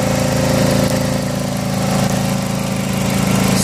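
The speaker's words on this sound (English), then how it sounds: "Compressor just kicked on, make it harder for you to hear me." A Chrysler Sebring's engine-driven air pump compressor runs steadily at close range, a constant mechanical drone with a low hum and a faint rattling vibration throughout.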